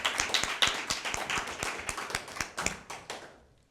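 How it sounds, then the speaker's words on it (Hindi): An audience at a Christmas Bible quiz event claps in an even, rhythmic beat of sharp hand claps, holding steady for several seconds and then fading out. "इनके लिए भी ज़ोरदार तालियां होनी चाहिए।"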